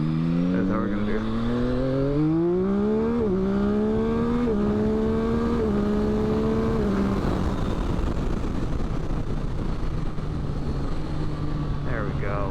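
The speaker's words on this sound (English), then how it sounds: "I'm going to leave you with one last first gear rip, and then we'll close out this video" A 2022 Yamaha XSR900 motorcycle rips through first gear, its engine note climbing in stepped pulls, loud and close, then dropping back to a steady lower drone with a brief rise at the end; a voice talks over it.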